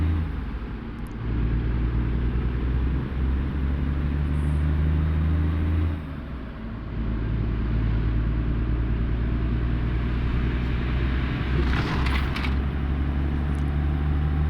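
A Freightliner truck engine in American Truck Simulator drones steadily and loudly throughout, with a brief dip in the rumble partway through and no talking.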